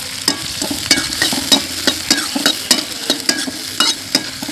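Onions, fennel seeds and coriander frying in a pan for a duck curry gravy, a steady sizzle broken by regular scraping strokes of a spoon stirring, close and fairly loud with no voices.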